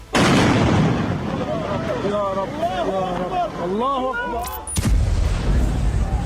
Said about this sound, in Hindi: शनिवार की रात को गाजा में ऐसे कई हमले हुए और लगातार धमाके होते रहे।